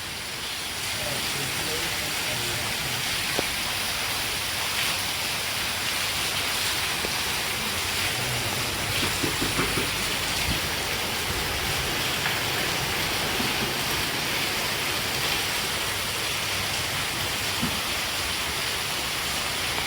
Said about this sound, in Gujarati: કેટલો બધો વરસાદ પડે છે